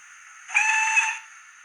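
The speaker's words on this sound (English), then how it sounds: "let's move on to the next sound, which is one of the whistles" A single short, hissing whistle blast from a Bachmann 57xx Pannier Tank model steam locomotive's sound system, bright and close, sounding for about a second with no other sounds around it.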